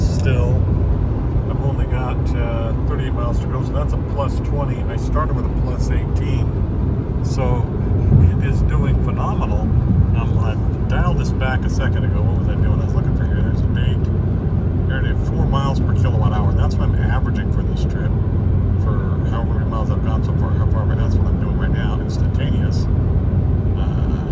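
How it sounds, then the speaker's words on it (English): Mini Cooper electric car cruising at 80 mph on a desert highway, giving a steady, loud road and wind rumble that runs unbroken beneath a person talking. "Here we are cruising along at 80 miles an hour"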